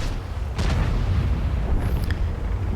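A heavy tank gun shot from the M4A1 Revalorise in a tank battle game, a deep booming blast against a constant rumbling engine drone, with a faint metallic ping afterward.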